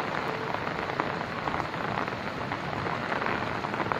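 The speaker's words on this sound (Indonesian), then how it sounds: "Hujan dihajar terus." Heavy rain pouring over an outdoor town square and park in Depok, Indonesia, a dense, steady hiss throughout with no voices.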